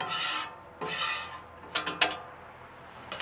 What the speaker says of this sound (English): I'm just going to scrape the top of my grill off.